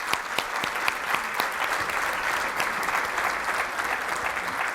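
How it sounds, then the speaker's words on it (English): A conference audience at a rare disease therapy event claps steadily throughout, a full, even round of applause with no voices over it. "let's give them another round of applause"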